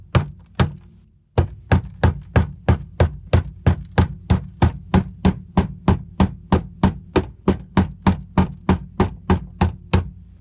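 Steady, rapid hammer blows ringing out one after another, about three strikes per second, loud and close, after a short pause near the start.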